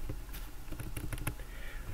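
Typing on a computer keyboard: a short burst of light, quick key clicks, about a dozen taps close by and fairly faint over a steady background hiss.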